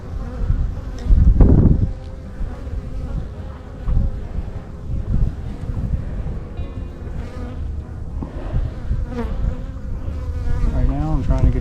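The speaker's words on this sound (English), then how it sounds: "There's a bunch of them. There's a bunch of bees." Honey bees swarm around a hive in a steady, dense buzzing drone, close and continuous, with occasional louder bumps and handling noises from someone working at the apiary during winter preparation.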